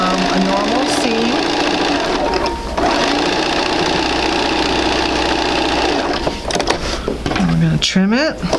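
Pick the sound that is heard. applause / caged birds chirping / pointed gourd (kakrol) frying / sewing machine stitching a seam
sewing machine stitching a seam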